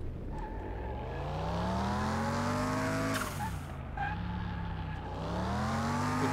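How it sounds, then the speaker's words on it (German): A car in the video game Car Mechanic Simulator 2021 drives on a test track, its engine revving up and down steadily while tires squeal through turns, loud and continuous with no talking. "Man kann in dem Spiel fahren."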